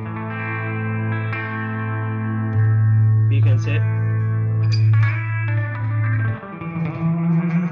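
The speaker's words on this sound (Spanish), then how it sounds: "vamos a escuchar cómo suena el limpio" Clean electric guitar tone played through a NUX MG30 multi-effects processor, with sustained, ringing chords and a few changes, loud and close; a voice briefly speaks over it.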